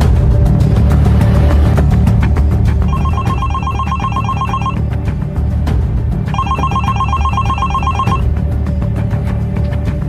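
A mobile phone rings with an incoming call, two bursts of a bright electronic ringtone pattern separated by a pause, loud over a steady low rumbling background.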